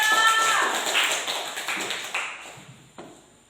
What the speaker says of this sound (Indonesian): Tepuk tangan untuk Aldo